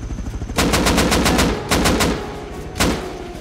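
Rapid automatic gunfire in the survival video game Rust, loud bursts of closely spaced shots in two long strings and a short final volley, heard alone without talk.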